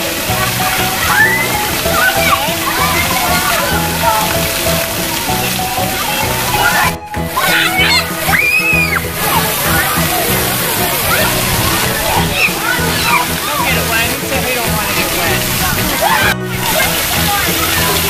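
Children splash and slosh in water during a summer outing, with steady rushing water and choppy splashes throughout, and voices chatter over the top.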